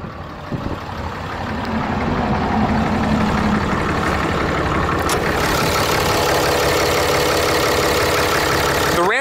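The 6.7 liter Cummins turbo diesel inline six in a 2013 Dodge Ram 3500 idles close up with a loud, steady rumble and clatter that grows over the first two seconds and then holds even, with no talking.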